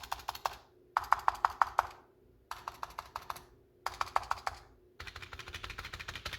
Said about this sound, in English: So as you can hear, the keyboard in general sounds pretty good.